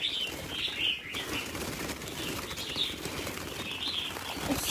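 A red-whiskered bulbul flaps its wings as it flies off, with soft fluttering bursts and faint high chirps from nearby birds over a continuous outdoor background.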